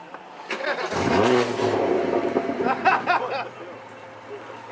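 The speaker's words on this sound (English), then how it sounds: "Ash is gonna turn on his BMW, and then we're gonna record the reactions because that shit is loud" A BMW engine starts and revs hard, its roar climbing and then settling into a loud idle, with voices talking over it nearby.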